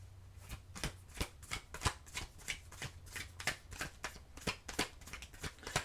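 Tarot cards being shuffled by hand, close and soft, in a steady run of quick riffling bursts with short pauses between them and no talking.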